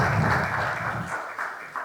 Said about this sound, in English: A round of applause for SAMRO or Sinterezo.